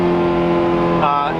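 A car engine revs hard with a slipping, worn-out clutch, a steady droning roar rising in pitch near the end, with people talking over it.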